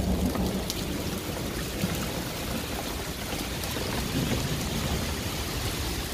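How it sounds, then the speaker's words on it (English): Steady rain falls hard outdoors, a dense continuous hiss with low rumbling thunder underneath, loud and close throughout with no voices. "Now to get out of the rain."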